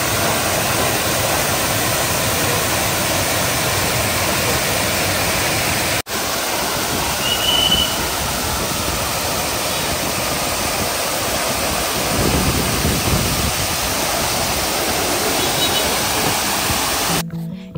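Waterfall by the lake in a city park in Thane, a loud constant rushing roar that holds steady throughout, with a brief cut partway through and no voices.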